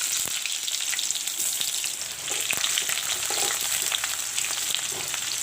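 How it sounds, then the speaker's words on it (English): Sliced onion and bay leaves fry steadily in hot oil, a dense continuous sizzle with scattered crackles and pops, close and fairly loud, with no voices. "I will let the onions turn brown a bit"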